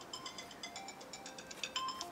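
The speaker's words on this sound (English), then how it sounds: "Oh, that must be Thingamabob's phone." A mobile phone rings with a bright, repeating electronic melody, a steady pulsing tune of short tones that plays on for its whole length at moderate volume.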